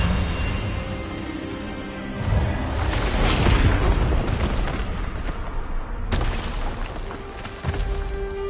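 An Expelliarmus spell cast during a wizard duel in Hogwarts Legacy, heard as two booming magical bursts over a low rumbling backdrop, the first swelling loud and the second cracking in sharply near the end.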